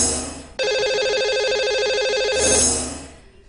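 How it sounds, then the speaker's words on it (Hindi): A telephone ringtone sounds as a radio show host places a call to a caller, one steady electronic warbling ring lasting about two seconds before cutting off, fairly loud and clear with no talking. "तो लगाते हैं इन्हें अब कॉल और करते हैं इनसे बात।"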